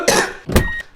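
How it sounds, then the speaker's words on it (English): Two quick, close coughs from a person, a short harsh burst followed by a second after a brief pause. "Excuse my cough."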